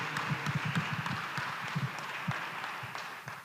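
An audience applauds to welcome a speaker at a Jesuit institute young adults talk series, a modest, loose patter of clapping with a few louder claps standing out, fairly close and steady for a few seconds.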